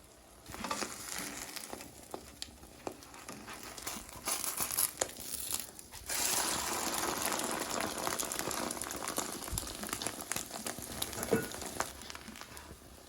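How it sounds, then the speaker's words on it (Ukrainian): A thin egg omelette fries in oil with a dense, crackling sizzle that runs almost continuously, dipping briefly once about halfway through before returning at a steady level. "Головне яйце добре просмажити"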